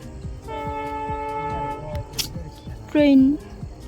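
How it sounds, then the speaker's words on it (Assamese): A train horn blares in sustained tones amid rumbling rail noise, with a second shorter blast near the end and people talking over it. "ট্ৰেইনখন দেখাব না মই দেখা পাইছোঁ"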